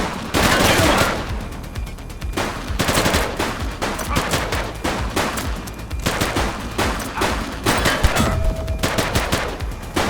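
A loud shootout in The Precinct, with sustained bursts of automatic and rapid gunfire crackling almost without pause, layered over each other at close range.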